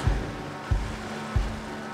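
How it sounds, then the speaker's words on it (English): A sailboat motoring under engine power through Hook Passage, with a low rumbling drone and three heavy thumps of hull and water at regular intervals, loud and close, no talk. "so we've got the engine on, and we're going to come around the shallow parts"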